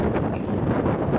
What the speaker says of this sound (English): I think we'll probably hold off because it's so windy now